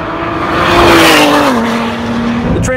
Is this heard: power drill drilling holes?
no